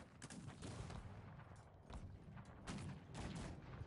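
Cannon and gun fire in the strategy game Cossacks 3, rapid overlapping bursts of shots forming a continuous crackling fusillade, muffled and quite faint.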